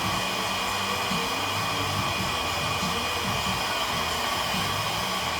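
A hair dryer blows steadily at the roots of 4b-4c curly hair in a salon styling session, a constant close whooshing roar with no talking over it.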